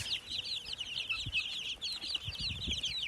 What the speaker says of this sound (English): So this is our 52 precious chicks that we have.